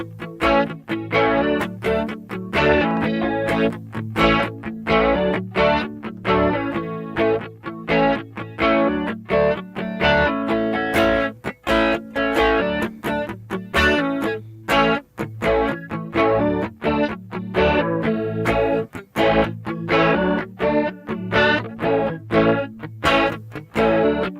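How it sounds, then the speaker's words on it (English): Electric guitar chords ring out with a wavering, detuned shimmer that thickens the tone, played steadily and loud throughout. "This is dry on one side and a detune on the other side."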